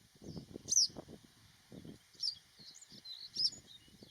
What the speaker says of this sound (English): Yellow wagtails actually nest in hoofprints, finding shelter while catching disturbed insects